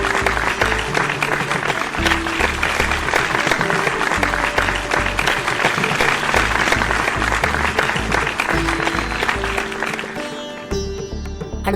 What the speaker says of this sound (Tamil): எல்லாரும் அவங்களுக்கு ஜோராக கைத்தட்டுங்க.